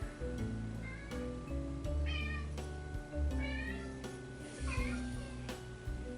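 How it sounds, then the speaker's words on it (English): A pet cat meows several times in short, rising and falling calls spaced across a few seconds, close and clear over low background noise and some clatter. "And that is my cat Odin"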